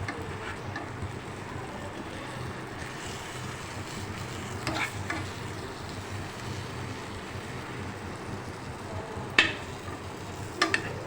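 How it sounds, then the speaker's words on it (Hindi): Eggplant slices frying on a tawa give a steady, soft sizzle throughout, with a few faint scrapes and clicks from turning the slices near the end and no talking. "ये देखिए माशाल्लाह कितने अच्छे फ्राई हुए हैं"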